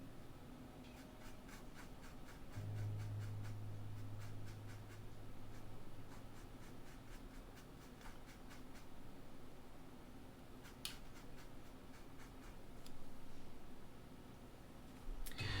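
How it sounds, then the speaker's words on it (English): Pastel pencil drawing on Pastelmat, heard as soft, repeated scratchy strokes in quick bursts against a quiet hum of room noise, with no talk. "Pastel pencil. I will use pastel pencil."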